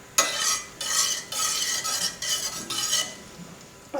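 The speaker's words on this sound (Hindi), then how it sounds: "इसमें सबसे पहले जो हम चीज़ रोस्ट करेंगे वो होगा हमारा गोंद" Gond, an edible gum, roasts in hot ghee in a pan with a bright sizzling crackle, broken into bursts as it is stirred, close and without voices.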